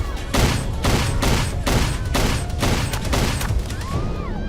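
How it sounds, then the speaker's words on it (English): Rapid gunfire from an action movie trailer, a dense fusillade of loud shots and bursts that roll on without a break across the whole stretch, with some ricochet-like whines near the end. "Because he's shooting at her."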